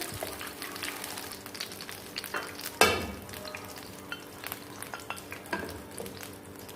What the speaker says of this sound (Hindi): बस तब तक इनको फ्राई करते हैं जब तक ये देखें जितनी किशमिश है वो फूल गई है